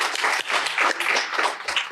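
Brunch-event audience applause for Men's Health Month: dense, even crowd clapping that stays loud and continuous throughout.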